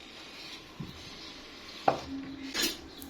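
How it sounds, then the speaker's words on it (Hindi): A fork beats a creamy fruit salad, seasoned with ground black pepper and chaat masala, in a bowl, giving a few scattered, fairly soft clinks and taps against the dish amid quiet kitchen background. "आप बीटर की मदद से भी इसको बीट कर सकते हैं, मैं फॉक की मदद से कर रही हूँ"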